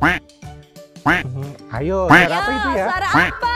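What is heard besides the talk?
duck quacking played in a children's guessing game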